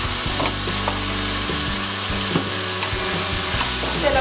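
Goya adobo and sazon seasonings fry in a pan with a steady, close sizzle, broken by light scraping and stirring clicks throughout.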